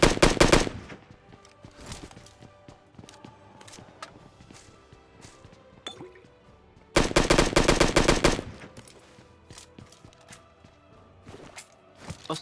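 SKS rifle fire in PUBG Mobile Lite: two loud, dense bursts of rapid shots open and recur midway, with scattered quieter single shots and footstep-like clicks in between.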